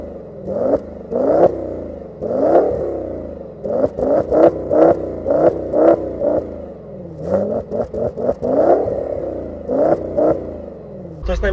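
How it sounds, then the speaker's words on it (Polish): A 1040 HP Audi RS6 R revs in short repeated blips toward about 3000 rpm, recorded close to the exhaust pipes, each rise and fall of the engine clear and loud with a brief pause midway. "I poproszę, żeby leciutko dodać gazu,"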